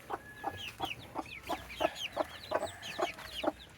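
Several native chickens cluck in a steady, repeated rhythm, close by, with soft chirps and higher peeps scattered between the clucks.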